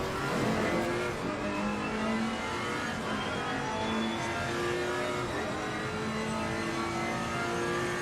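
Race car engine in Assetto Corsa Competizione roars and revs steadily for the whole stretch, loud and continuous, with pitch shifting as the car brakes hard and accelerates again.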